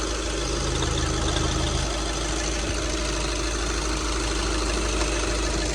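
A Skoda Octavia 2.0 TDI diesel engine idles steadily and smoothly, a constant close, loud diesel clatter and rumble with no change in pace.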